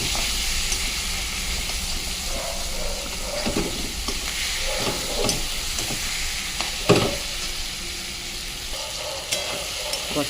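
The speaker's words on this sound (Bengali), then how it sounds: "এবার ওর সাথে দিয়ে দেবো আলুটা দিয়ে ভালো করে কষতে হবে।" Potatoes sautéed in a pan with shrimp and pointed gourd: a steady, close sizzle with scraping spatula strokes and occasional louder knocks against the pan, continuing without pause.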